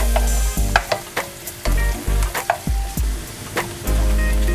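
Crushed garlic sizzles in a frying pan with onions, a loud, steady frying hiss broken by repeated scraping stirs and clatters of a utensil against the pan.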